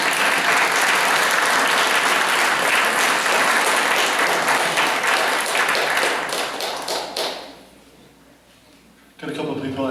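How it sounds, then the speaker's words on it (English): Band members and audience applaud at a holiday concert, a loud sustained roar of clapping that fades to near silence after about seven seconds before a voice starts speaking. "Band, give them a round of applause"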